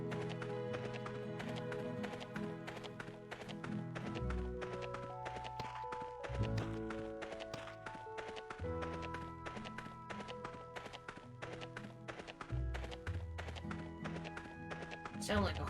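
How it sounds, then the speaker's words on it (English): Horse hooves clip-clopping in the God of War video game, a rapid continuous run of sharp taps over game music, with people talking over it. "Sound like a horse."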